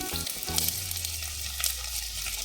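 Onions with tomato, ginger and garlic frying in a pan for a paneer bhaji, a steady broadband sizzle with brief stirring clatter near the start, close and continuous with no talk.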